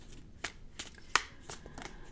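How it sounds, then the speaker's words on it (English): A deck of tarot cards shuffled by hand, a few sharp riffling snaps spread across the stretch with soft card rustling between them, close and moderately quiet. "And as I shuffle the cards"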